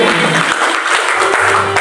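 Dense applause from a congregation at a church prayer and fasting service at Gunung Salak, Bogor, loud and sustained throughout the short moment, with no clear talking over it.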